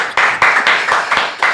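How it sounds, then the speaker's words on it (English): A few people clap in short bursts, about seven sharp, close claps in quick irregular rhythm during a casual sports-journalism interview setting. "Make it clap, guys."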